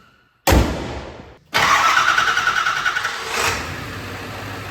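A Ford 7.3 diesel truck engine cranks with one brief burst, pauses, then catches and fires into a loud, close, rattling idle that settles into a steady diesel clatter.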